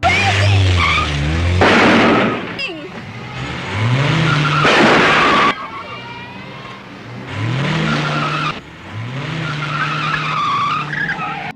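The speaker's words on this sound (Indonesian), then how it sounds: "Ken malah melihat mobil Akiko yang membuat dia sangat marah hingga menabrak mobil Takio beberapa kali" A car in the film Madam Scandal rams another car several times: loud, close tire screeches and roaring engine surges come in repeated bursts with heavy impact noise, and there are brief gaps between the collisions.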